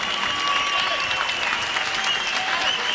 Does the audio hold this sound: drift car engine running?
no